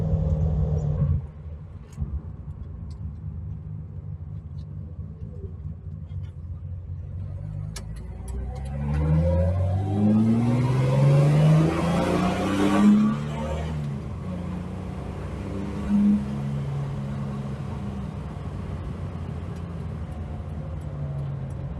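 A Holden Torana LC GTR XU1, a rare barn find that sat for 36 years, idles with a low rumble, then revs up as it pulls away, rising to a louder surge before settling to a steady drone.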